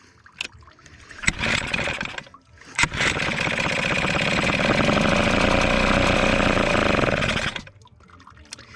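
A Hangkai 6 hp two-stroke outboard motor sputters in a brief burst. It then runs steadily and loudly for several seconds while its choke is adjusted, and cuts out near the end.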